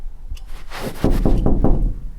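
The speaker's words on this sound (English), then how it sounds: "Annie, Carl, there's someone knocking at the door" Several firm knocks on a door, starting faintly then settling into a steady run of four or five loud raps, close by, with no voices over them.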